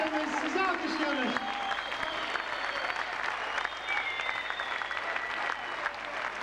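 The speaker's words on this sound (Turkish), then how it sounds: "Biz sizi alkışlıyoruz." Audience applause at a street performance in Istanbul: sustained crowd clapping runs throughout, with voices and some tonal sounds mixed in, loudest at the start and then holding steady.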